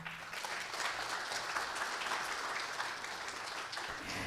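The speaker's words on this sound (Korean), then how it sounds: "강연자이신 김은영 전임 원장님과 사회를 맡으신 이은표 박사님을 앞으로 모시겠습니다. 큰 박수 부탁드립니다." Lecture audience at a Korean research institute event applauds as the speaker and moderator are invited forward, continuous even clapping from a roomful of people at a slight distance.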